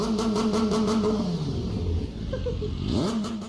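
A Kawasaki ZH2 supercharged naked motorcycle engine revs loudly and close, its pitch sweeping down then climbing again in a steady, sustained roar.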